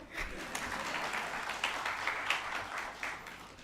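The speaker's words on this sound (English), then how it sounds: "So need a loud applause actually." A seminar audience at a GST annual return session gives steady, dense applause that holds at a moderate level throughout, with no clear talking over it.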